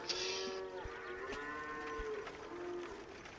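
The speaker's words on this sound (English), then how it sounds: "really loud moo." A cow gives a drawn-out, strained moo that rises and falls through several lowing swells, sounding panicked and moderately distant, with no talking over it.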